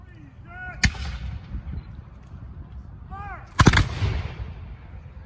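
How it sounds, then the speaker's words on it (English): Musket volleys at a Battle of Great Bridge reenactment: a loud, sharp volley near 0.8 seconds and a bigger, heavier crash at about 3.6 seconds, each trailing off into rumbling echo over crowd murmur. "they all fired at once"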